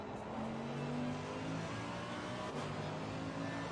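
A GT race car laps Bathurst's Mount Panorama circuit in Assetto Corsa Competizione, a steady engine drone with slowly shifting pitch lines and faint tire noise, held at moderate level throughout.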